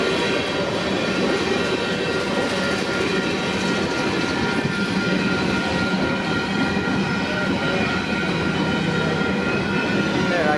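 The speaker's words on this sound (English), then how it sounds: "So this mixed freight came out of nowhere." CPKC 421 mixed freight train rolling past, a loud continuous roar of wheels and cars with steady rumble and clatter throughout, close by.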